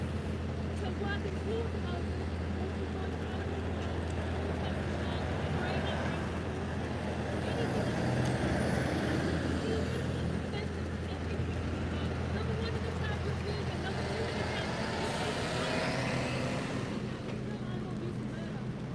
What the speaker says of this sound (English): These trucks have been in here for like, this one's been in here for like an hour.